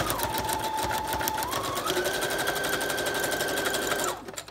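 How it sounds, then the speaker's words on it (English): Sewing machine stitching through paper layers of a junk journal embellishment, a steady fast mechanical chatter running loud and continuous for about four seconds before stopping abruptly. "let's go ahead and I'm just gonna sew"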